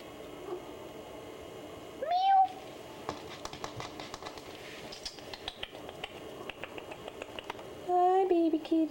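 A kitten gives two short rising meows, one early and one near the end, over a quiet room with light clicking and tapping between them.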